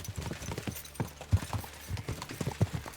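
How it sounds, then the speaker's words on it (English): Horses gallop in a race in the video game Kingdom Come: Deliverance 2, with a rapid, uneven patter of hoofbeats pounding throughout, close and steady. "Let's really spur these horses on, eh?"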